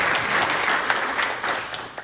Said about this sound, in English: So let's do a little clap